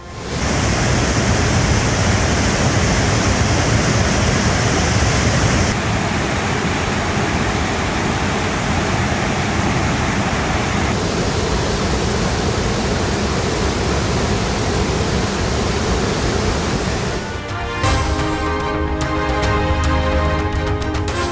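Hogenakkal waterfall on the Cauvery River roars with a dense, continuous wash of heavy water during high inflow, loud and unbroken before music comes in near the end.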